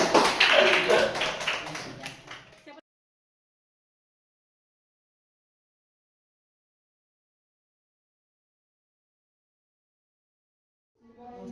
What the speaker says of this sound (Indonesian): Oke, tepuk tangan buat jawaban dulu.